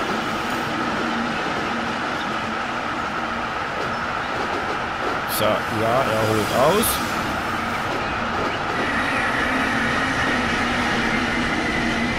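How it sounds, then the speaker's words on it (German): A train pulls into a station in the video game Transport Fever 2, a steady rolling rumble with a brief rhythmic clatter in the middle, under someone speaking German. "Ich mag es, wenn es so klingt, weil das klingt nach Zug."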